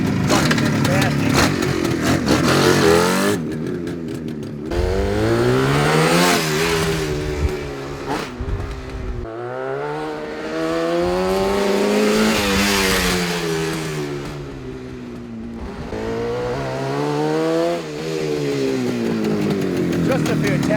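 A 1971 Suzuki T500R Titan two-stroke motorcycle runs nearby, its raspy engine revving up and down repeatedly in rising and falling sweeps, with a person talking at the start.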